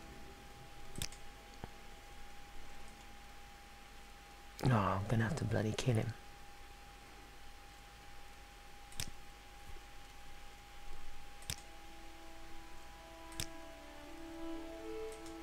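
Mouse clicks picking dialogue options in a Morrowind game: sharp, isolated ticks spaced a few seconds apart, faint and close, with a short spoken outburst in the middle and quiet game ambience throughout.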